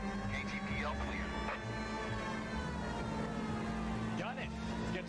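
A police car siren in the video game L.A. Noire wails steadily over rumbling car engine noise, with brief sweeping tones and voices talking underneath.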